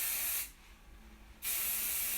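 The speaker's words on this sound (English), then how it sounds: "you can really spray it in there." Hairspray from an aerosol can sprayed into hair in two close, loud hissing bursts separated by a short pause.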